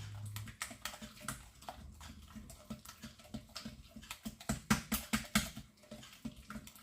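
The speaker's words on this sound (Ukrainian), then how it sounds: "Гарно змішуємо, щоб в нас була однорідна маса." A fork or whisk beats a batter marinade for fried hake in a bowl. The strokes are quick and rhythmic, clicking and tapping close by, and grow busier toward the end. No voices.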